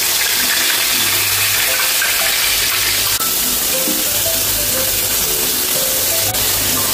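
Finely chopped onions drop into hot oil with mustard seeds and asafoetida, giving a loud, steady sizzle and hiss that fills the whole stretch without pause.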